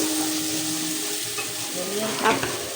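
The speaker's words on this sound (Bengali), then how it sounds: "এখন এটা হচ্ছে ভালো করে ভেজে নিবে।" Spices with chili powder frying in a pan, a constant sizzle with stirring strokes and a brief louder scrape near the end, close by.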